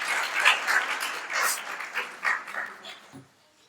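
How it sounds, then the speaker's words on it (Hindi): An audience claps for a surprise at a Republic Day event, a close patter of scattered hand claps rising and falling in short bursts before fading out. "उसके लिए मैं प्रियंका के सरप्राइज के लिए भी एक बार ताली जोरदार।"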